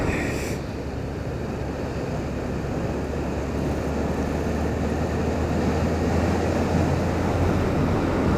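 A Honda CB1100 motorcycle engine rumbles steadily at moderate speed with heavy wind noise during a test ride, a constant loud drone with no breaks.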